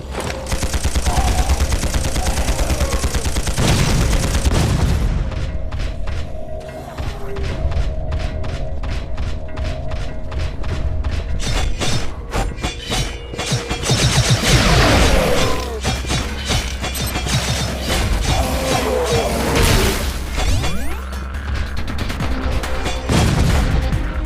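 Weapon firing in the mobile game Implosion, rapid bursts of mechanical gunfire and heavy booming impacts crowding together continuously, loud and dense with clattering mechanisms throughout.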